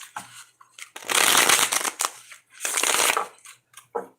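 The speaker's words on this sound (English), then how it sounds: "think about who you want to think about as I'm shuffling the cards" A deck of cards is shuffled in two quick riffling bursts, close and crisp, with light tapping and handling noises in between.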